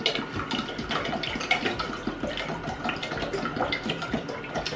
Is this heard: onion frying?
no